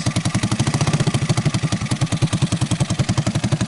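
The small engine of an old, long-abandoned Honda ATC185 ATV idles steadily up close, its rough, rapid chugging pulsing evenly throughout with a clattery mechanical edge.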